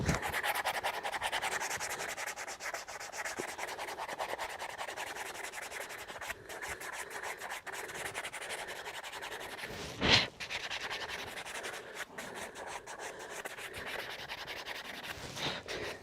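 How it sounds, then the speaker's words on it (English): Sanding block worked back and forth over a foot being prepared for gluing, a continuous close, gritty rubbing with rhythmic strokes and one brief louder scrape midway, with no talking. "I'll just use my block now, just sand that foot up a little bit more"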